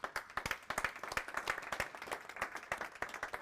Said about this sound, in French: Vous êtes chaud avec vos petits applaudissements